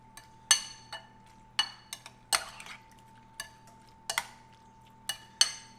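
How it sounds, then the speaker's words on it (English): A utensil stirs cut lobster with lemon and lime in a bowl, giving about a dozen crisp clinks and taps at an uneven pace over a faint steady hum, close by and without talk. "Take it and stir it up to where everything now has lemon and lime on it."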